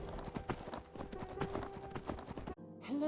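Horse hooves clip-clopping at a steady trotting rhythm in the video game Skyrim, moderately loud and continuous, stopping abruptly near the end as a brief tonal sound begins.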